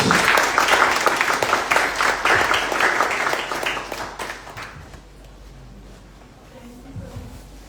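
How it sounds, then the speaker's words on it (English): Audience applause welcoming a speaker on stage at a sustainability talk series in Ahmedabad, a lively round of clapping that is strong at first, then thins and fades to a quiet room with faint stray claps. "can we have a round of applause as I invite Navya Handa on stage"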